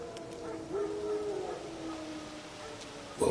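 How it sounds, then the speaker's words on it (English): Wild dogs howl in a video game's wilderness, a thin wavering howl rising and falling over a dense, noisy ambient bed, faint and somewhat distant, followed by a short louder burst at the end. "Wolves? No."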